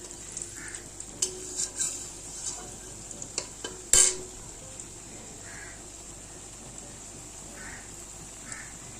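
Fried potatoes go into fish frying in a pan, a steady soft sizzle with a few clattering clinks and one sharp scrape near the middle, close and fairly quiet.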